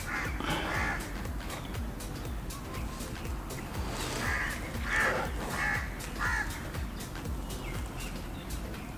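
Crows cawing outdoors in a series of harsh, repeated calls, a cluster near the start and a run of four in the middle, moderately close over steady background noise.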